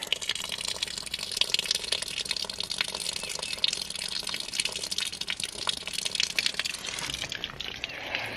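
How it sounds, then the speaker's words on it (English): Water gushes steadily from an opened outlet on a ram pump setup with 7 feet of head and 35 feet of lift, a continuous broadband splashing rush that holds nearly level throughout, close and fairly loud, with no voices. "We have water."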